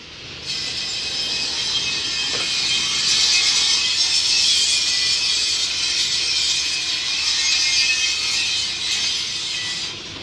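Chain-driven conveyor on a three-ton sugarcane crusher running steadily, a continuous bright mechanical rattle and clatter with grinding metallic tones, close and even for about ten seconds with no talking.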